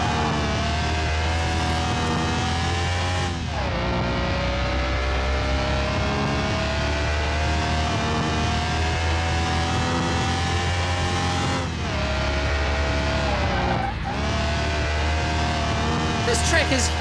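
Car engine in Car Mechanic Simulator 2021, driven around a huge race track: a continuous loud engine drone with rising pitch sweeps as it accelerates through gears, brief dips at shifts, and a narrator talking over it.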